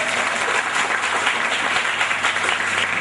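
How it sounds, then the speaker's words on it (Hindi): An audience applauds at a religious gathering, a dense, steady wash of many hands clapping at a fair distance, alone with no speech over it. "क्यों नहीं ताली बजा देते उसके लिए?"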